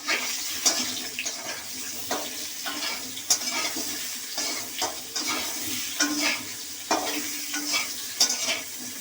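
Pointed gourd (potol) sizzles in hot oil in a pan for a Bengali thin fish curry, a steady close crackle broken by sharp pops and scraping stirs as the pieces are turned.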